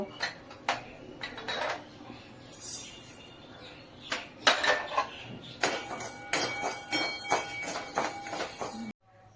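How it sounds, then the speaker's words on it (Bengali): Whole spices such as cardamom, nutmeg, poppy seeds, cinnamon, cloves, mace and bay leaves dry-roasting in a pan, with repeated loud metallic clanks and scrapes of a spatula against the pan, close and irregular, ending abruptly. "এইগুলো আমি একে একে সব ভেজে নেব"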